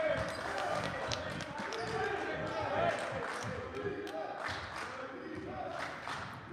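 Crowd noise rises at a boys high school basketball game between Upper Dublin and Holy Ghost, a murmuring, swelling gym crowd with scattered shouts and ball bounces, heard under steady play-by-play commentary.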